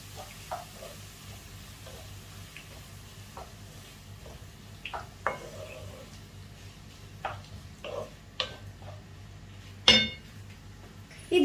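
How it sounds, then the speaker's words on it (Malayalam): Spoon scraping and clinking against a pan while chopped tomatoes are stirred for Kerala-style tomato pachadi, soft irregular taps and scrapes over a low kitchen hum, with one louder clank near the end. "ഞാൻ എല്ലാം കൂടി ഒന്ന് ഇളക്കി യോജിപ്പിച്ച് കൊടുക്കുകയാണ്"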